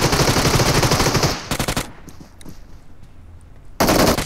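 Heavy automatic gunfire in a solo-versus-squad battle royale shooter game, loud rapid bursts that stop, leave a few scattered distant shots, then resume at full volume.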